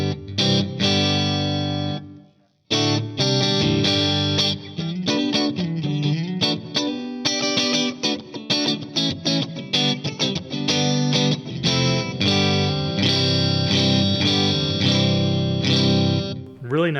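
An electric guitar plays through a Friedman Runt amplifier set to its fourth position, cranked for saturation, giving a loud, sustained, distorted tone with chords and riffs, a brief break near the start, and no talking.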